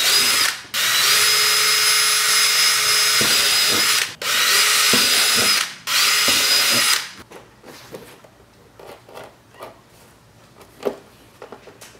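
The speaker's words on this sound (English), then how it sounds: "I'm actually going to pre-drill the holes first." Power drill pre-drilling screw holes in a truck door panel of a 2016 Silverado during a power window conversion: three loud, sustained whining bursts separated by brief pauses, then quieter clicks and handling noises.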